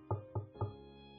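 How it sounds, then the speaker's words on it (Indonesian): Three evenly spaced knocks on a door, close and clear, followed by a brief fading resonance, used as a sound effect in an Indonesian audiobook. "Tidak lama setelahnya, seseorang mengetuk pintu."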